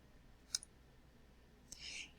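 A single quiet mouse click on a PowerPoint Done button sounds near 0.55 s, then a faint short burst follows near 1.75 s, both set against a low, soft background.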